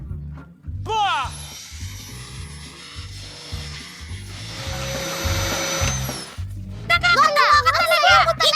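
In a cartoon scene, a vacuum cleaner drones with a steady whirring whine for several seconds, running under voices and background music.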